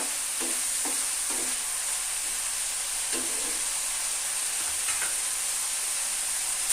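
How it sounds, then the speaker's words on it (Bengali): Spice masala with cumin powder being stir-fried in oil for a Bengali fish curry, a steady moderate sizzle close by, broken by several soft spatula scrapes and taps at irregular intervals, no talking. "এবার মশলাটাকে কিন্তু খুব ভালো করে কষিয়ে নেব যতক্ষণ না তেল ছেড়ে আসে।"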